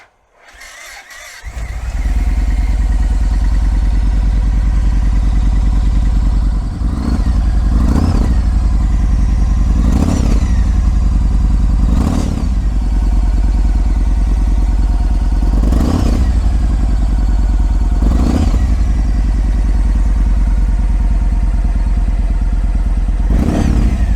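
A Yamaha MT01 motorcycle engine cranks and fires, then settles into a loud, close, deep idle broken by about six sharp throttle blips spaced a few seconds apart.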